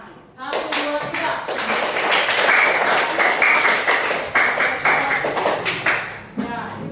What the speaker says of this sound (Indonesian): Ibu guru minta kita semua tepuk tangan